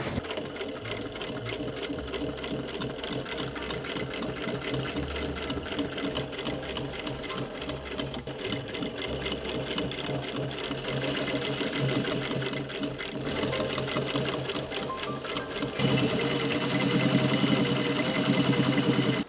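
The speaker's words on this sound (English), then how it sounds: "Then we can stitch around it. And then we're going to stitch that down." A sewing machine stitches dungarees in a steady, close mechanical whir that runs without a break, its pace shifting slightly and growing louder toward the end.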